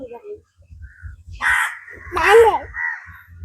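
Crow cawing near a home in Sri Lanka, two loud harsh calls close by, with people talking throughout in the background while cooking.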